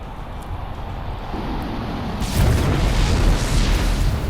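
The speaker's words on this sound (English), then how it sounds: "So nuclear missile cleaning that up" A nuclear missile explosion in StarCraft 2: a heavy rumbling blast kicks in partway through, a deep roaring boom over a steady windy wash of noise.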